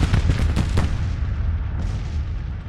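Cannon fire from Civil War artillery batteries in Grand Tactician: The Civil War, a dense rumbling barrage of overlapping booms with several sharper blasts early on, loud and continuous, with no talking.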